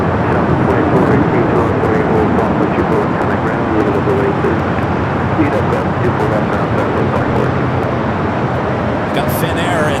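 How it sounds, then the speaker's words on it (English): An Emirates Airbus A380 takes off from runway 24 left at LAX, a loud, continuous jet roar filling the whole stretch with a steady broadband rumble, while a voice talks over it. "You got Emirates 9-year-old A380 Super heading back to Dubai, flight 216. Next takeoff there on the north side at 24 left."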